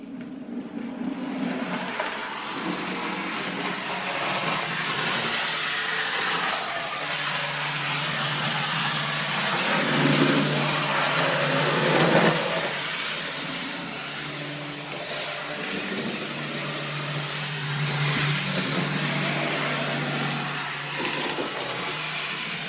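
A model train on a layout with a hidden station climbs a ramp, its small motor humming and whirring steadily for the whole stretch, with faint rail clicks and a slight rise in pitch as it works up the grade.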